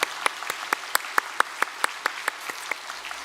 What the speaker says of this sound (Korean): 우리 네 분 위해서 박수 한번 하겠습니다